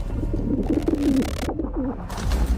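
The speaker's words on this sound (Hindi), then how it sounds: "ये तो कबूतर जैसे किसी पक्षी की आवाज लग रही थी" A pigeon-like bird coos in soft, rolling phrases outside a Himalayan cave, fairly close, with a low murmur of background noise.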